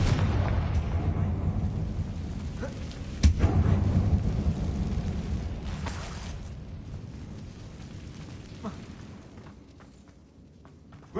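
A Confringo fire-spell blast from Hogwarts Legacy on PS5 lands as one sharp boom about a third of the way in, then a rumbling tail fades slowly beneath steady game ambience.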